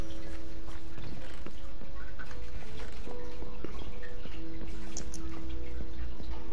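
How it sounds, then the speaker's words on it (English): Hooves of a horse walking in a video game clop in a steady, repeating tick-tock rhythm over a dense, noisy game soundscape, fairly close and continuous throughout. "Oh, it's the horse walking."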